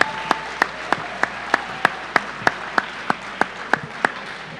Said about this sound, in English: give yourselves a round of applause for the accomplishments that you've done this year